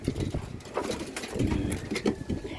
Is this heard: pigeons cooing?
yes